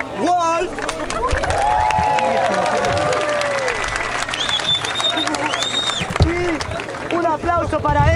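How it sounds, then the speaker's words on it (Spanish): A crowd at a rap battle final breaks into sustained applause mixed with cheers, whistles and shouting voices. The sound is loud and dense throughout, with crowd chatter running underneath. "quiero un aplauso para Wolf"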